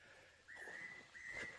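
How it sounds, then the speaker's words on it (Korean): A faint, high bird call sounds twice in quick succession, each a clear sustained whistle-like note against a quiet outdoor background. "야, 저새 소리 정말 휘파람,"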